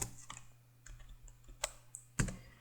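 Someone types Java code on a computer keyboard, producing a quiet, irregular run of close key clicks with a few louder taps and no talk.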